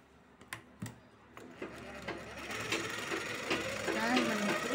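A sewing machine joins fabric pieces for a 40-inch blouse with a pa neck. A few sharp clicks lead into a rising, continuous mechanical whir of stitching, moderately quiet and close.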